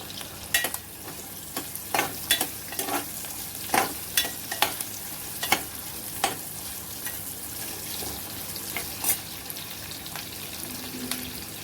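Onions fry in a pan for paneer pulao, a soft continuous sizzle broken by a series of sharp scraping clicks as a spoon stirs them repeatedly, close and without talk.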